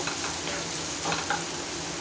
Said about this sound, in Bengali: দেখুন কত সুন্দরভাবে ভাজা হয়ে গিয়েছে আদা পেঁয়াজ আর টমেটোটা